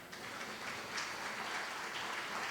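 A church congregation claps together in a steady, diffuse wash of applause that fills the room evenly, fairly soft and without talk over it.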